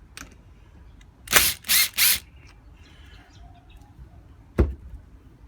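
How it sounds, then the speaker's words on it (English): A cordless drill fitted with a star bit backs screws out of a whipper snipper's housing in a few short whirring bursts close by, separated by quiet handling clicks, with one brief final burst. "I've got one on the drill here"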